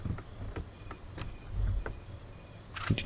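A cricket chirps in intermittent short bursts amid quiet outdoor ambience in the survival game H1Z1, set in a trailer park of fixed mobile homes, with a few faint soft thuds underneath.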